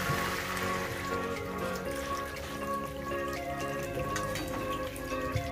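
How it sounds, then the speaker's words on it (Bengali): Water is poured into a pan of sautéed vegetables, giving a steady, even splashing and hissing rush that lasts the whole time, with no voices. "আমি এখন দিয়ে দেবো জল।"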